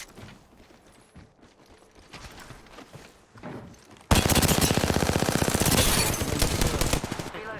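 Loud, rapid bursts of automatic gunfire from the Apex Legends battle royale shooter start abruptly midway and continue as sustained, dense fire, following a quieter stretch of muffled game action.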